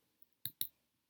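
Two quick, crisp mouse clicks close together in a quiet room while selecting a tab in Canva, faint and isolated with no talking.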